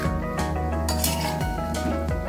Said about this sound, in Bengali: এইবার হিট বাড়িয়ে আমি একটু 1 মিনিট মতো নাড়াচাড়া করে নামিয়ে নেব।